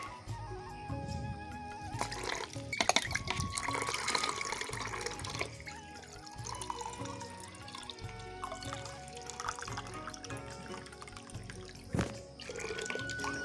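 Water pours from a tap into a container in a home, a steady running and splashing stream with drips, close by and loud, with clattering household sounds and no talk.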